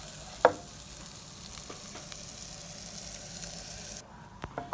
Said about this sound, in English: I'm just gonna saute this for say around 1 minute